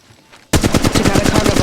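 Rapid automatic gunfire in the mobile battle-royale shooter Apex Legends Mobile bursts in after a quiet half-second lead-in, continuing as a loud, steady stream of close shots with no pause.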